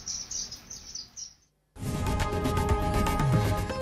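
Small birds chirp in quick, high, repeated tweets at a backyard bird sanctuary in a home in Akola; the chirping runs briefly, then breaks off into a loud, dense burst of noise.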